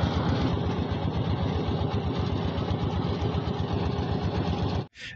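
Boat engine running steadily on a crowded ride toward Bholaganj Sada Pathor in Sylhet, a loud continuous throbbing drone that cuts off abruptly near the end, with no voices.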